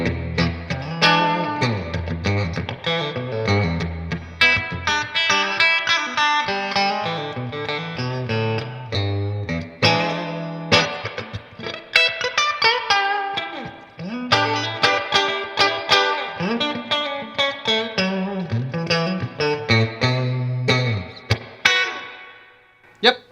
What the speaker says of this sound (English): That's the good old-fashioned spring reverb right there.